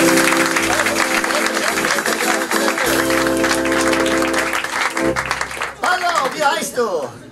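An audience at a live stage show claps while a performer calls a volunteer up onto the stage. The applause runs throughout under and between the performer's speech and background music, with scattered claps and some crowd noise.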